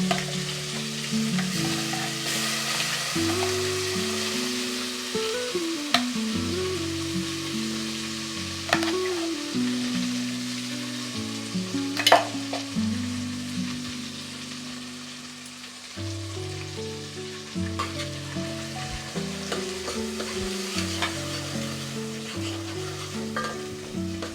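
Ground spice paste with curry leaves and coriander sizzling and being stirred in hot oil in a pan for a Maharashtrian puran poli meal, a steady close crackle with occasional scraping stirs, no talk.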